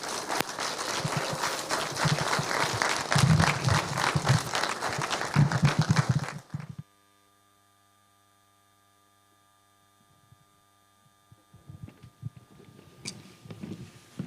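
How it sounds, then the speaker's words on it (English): Conference audience at a governor's workforce summit applauds for about six seconds, then falls silent apart from a low mains hum, and a few faint scattered claps and rustles return near the end. "Another round of applause for the governor."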